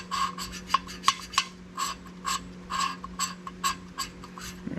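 Engine valves of a Willys Jeep F-head being hand-lapped into their seats, a gritty rasping rub repeated in quick uneven back-and-forth strokes, close and fairly quiet over a steady low hum.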